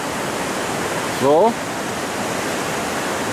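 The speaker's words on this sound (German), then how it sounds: "Da ist da dieser Fluss zwischen beiden Ländern, Le Doubs, und da ist Frankreich." The Doubs river flows below a bridge on the Swiss–French border, a loud, constant rushing roar filling the scene, with a brief spoken word over it.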